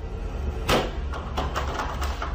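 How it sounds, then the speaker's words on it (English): Knocks on a pantry door in a house, one loud thud followed by several softer bangs over a low steady background hum, with no voices. "but I heard banging on the door."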